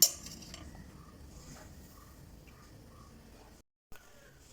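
A spoon stirring appam batter with salt in a bowl, soft clinks and scrapes at a low level with a brief pause near the end.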